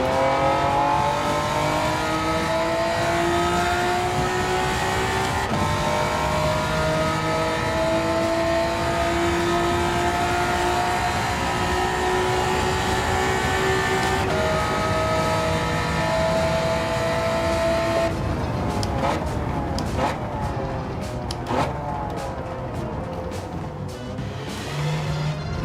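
A Honda NSX race car in Gran Turismo 7 screams around Monza, its engine rising and falling through gear changes with steady revving, then a burst of brief rattling clicks near the end.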